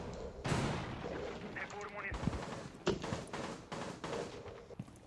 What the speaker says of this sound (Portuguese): É a Twitch com a semi-automática?